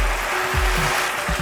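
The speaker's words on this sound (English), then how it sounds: "The next thing is to add some water." Water poured into a pan of partly cooked prawn biryani, a steady splashing gush with gurgling pulses, close and fairly loud, with no talk.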